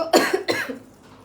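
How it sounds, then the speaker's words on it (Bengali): Two sharp, close coughs in quick succession, then quiet. "আমার কাশি আর জীবনে ভালো হবে না"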